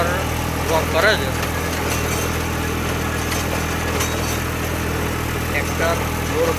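Steady, loud engine rumble of a Massey Ferguson 246 tractor working a Shaktiman rotavator, continuous and near, with voices over it.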